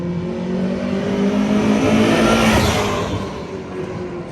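Honda Prelude fitted with an aftermarket exhaust makes a flyby, its engine note swelling loud as it passes close and then fading away, with no one talking over it.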